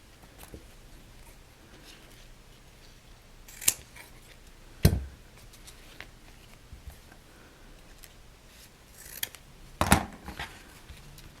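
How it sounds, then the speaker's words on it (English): Scissors cutting fabric strapping for a travel bag: a few sharp, isolated snips spaced several seconds apart, close and clear over a quiet background. "You're gonna cut 2 pieces the same size as your bag."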